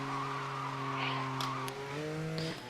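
Porsche revving and accelerating in Need for Speed Most Wanted, fitted with standard race tires and nitro, its engine note holding steady then shifting up through gears with a brief tire squeal near the end, loud and close with no talk.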